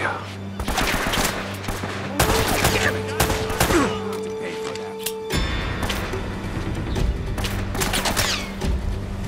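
Handgun fire in the video game Uncharted: Drake's Fortune: loud, sharp shots come in irregular bursts amid an ongoing firefight with echoing impacts, over a droning background and some talk.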